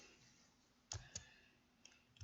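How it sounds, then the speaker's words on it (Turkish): Sparse computer keyboard and mouse clicks during a Jailbreak VIP server game session: a handful of soft, close, isolated taps over a very quiet background, with no talking. "bu arada klavyenin ve mouse'un sesi geliyorsa sizden çok özür dilerim"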